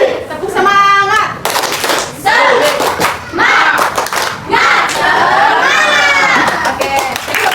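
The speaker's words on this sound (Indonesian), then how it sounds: "Tepuk semangat." A class of students in an Indonesian classroom performs a rhythmic spirit clap chant, loud group clapping mixed with shouted voices, bursts of unison claps separated by brief pauses, with cheering tones throughout.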